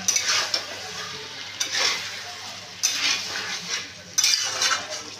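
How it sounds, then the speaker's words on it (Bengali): Chopped tomato is stir-fried with chicken masala for a chicken curry: a spatula scrapes and stirs in four distinct bursts over a continuous oily sizzle, fairly close and loud. "এইবারে আমি এই কেটে রাখা টমেটোটা দিয়ে দিলাম দিয়ে আবারও আমি ভালো করে কষিয়ে নিচ্ছি"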